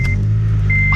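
A Honda Civic Si FA5 fitted with an aftermarket exhaust idles close by, giving a steady low, bassy drone with a faint high whine partway through.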